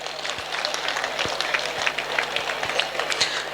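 An audience at a school annual day function claps, a dense steady applause with occasional sharp thumps, fairly loud throughout.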